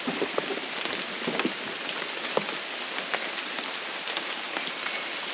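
Light rain falls steadily in the Amazon rainforest in Cuyabeno, Ecuador, a dense hiss of drops on leaves with scattered nearer taps and patters, no voices.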